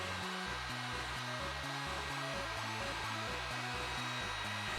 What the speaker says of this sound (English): Then I heated up the piece with my heat gun until it was very hot.